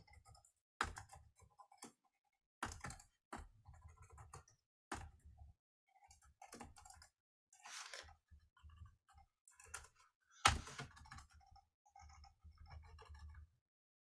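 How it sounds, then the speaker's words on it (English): Someone typing on a computer keyboard in quiet bursts of clicking keys, faint and close, with short pauses between runs of keystrokes. "I'm really great at typing today."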